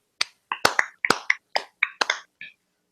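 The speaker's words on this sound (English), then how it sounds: "Give him a clap." A few people clap in a small room, giving a brief run of sharp, uneven claps with short gaps between them and no talk over them.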